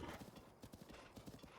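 Horse hooves gallop in a quick, even clip-clop rhythm across the ground in The Legend of Zelda: Breath of the Wild. The hoofbeats are steady and fairly close, with a faint whinny among them.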